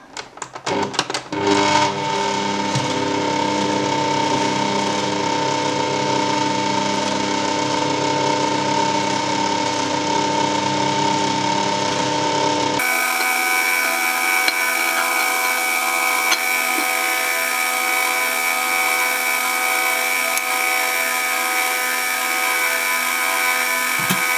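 An electric mixer whirs steadily at low speed through cake batter as melted butter goes in for a chocolate cake, a continuous motor drone with a brief pitch shift partway, close and fairly loud with no talking.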